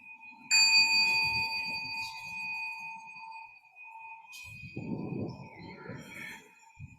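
A ritual bell is struck at a Zen Buddhist service, giving a bright ringing strike that sustains and slowly decays, followed later by a second softer strike, with low rustling and movement from the gathered people in between.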